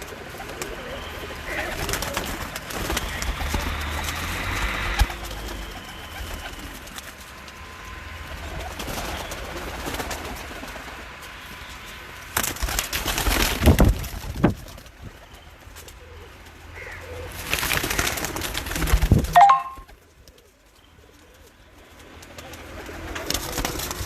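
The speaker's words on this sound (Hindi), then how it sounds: "जोड़ों वाले कबूतरों का शौक करवा रहे हैं आपको" Domestic pigeons coo softly and repeatedly on a rooftop, with a loud burst of fluttering noise in the middle and background rustling.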